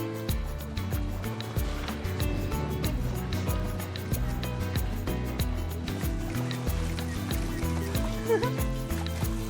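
A 12-metre sailboat moves through water under a steady wash of noise, with music and a voice running throughout.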